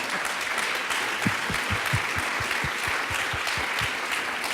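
Sustained applause from a conference audience, dense and even, with a few louder individual claps standing out near the front.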